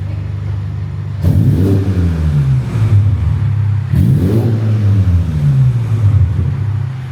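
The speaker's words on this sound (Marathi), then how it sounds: "गाडी गरम होते ना, थंड पडते तर तिला गरम व्हायला लागतं थोडं." A car engine, warmed up after sitting cold, revs loudly twice, each rev rising quickly then winding down over a steady close idle rumble.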